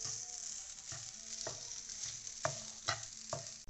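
Grated coconut dry-roasting in a pan for koottu curry, a steady close sizzle with a stirring scrape every half second or so and no voices.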